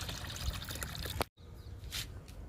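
Fruit peel liquid fertilizer poured from a container onto fruit plants, a steady close trickling splash that stops abruptly, followed by a softer dribble.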